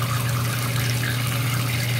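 Hot water pours steadily into a bathtub with a Lush dragon bubble bar in it, a continuous close rushing splash over a low steady hum, with no talk.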